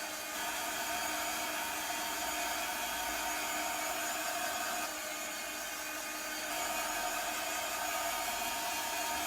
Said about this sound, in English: So I'm just going to dry this off before we move on.